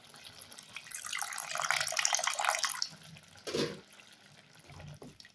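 Tamarind water pours into a simmering curry in a steady splashing stream for a couple of seconds, followed by a brief second splash and faint bubbling.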